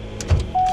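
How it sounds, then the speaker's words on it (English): An electric transmission cooler fan mounted under a car switches on from ignition power with a short clunk, then settles into a steady, thin whine that holds close and even to the end. "the fan underneath the car, which you can hear running when I flip the switch"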